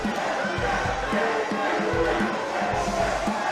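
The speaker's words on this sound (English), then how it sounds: "And the crowd loves them some Bam, that's a fact." A crowd at an indie wrestling event cheers and chants in rhythmic bursts, a loud, continuous roar that fills the whole clip with no clear commentary over it.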